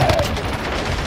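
Gunfire in a video game lands as a quick, loud burst of shots packed close together, with a little background noise behind it.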